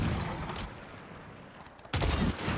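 Gunfire from a Call of Duty: Warzone Resurgence match in Rebirth Island ranked quads, loud bursts opening and closing the stretch with a quieter rumbling gap between them.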